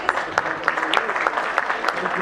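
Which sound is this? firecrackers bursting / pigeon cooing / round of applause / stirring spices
round of applause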